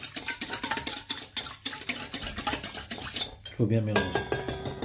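A utensil stirs yeast into water in a bowl, giving rapid repeated clinks and scrapes against the sides that keep close and busy, then a louder ringing knock near the end.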